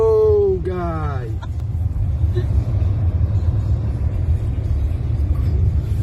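A car drives along a snowy road during a blizzard, producing a loud, steady low rumble of engine and tires from inside the vehicle, with a short burst of talk at the start.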